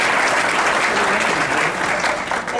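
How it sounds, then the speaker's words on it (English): An audience applauds a district-office intern named Victor at a congressional town hall, with sustained, fairly loud crowd clapping throughout and no speech over it. "And so you can applaud him for"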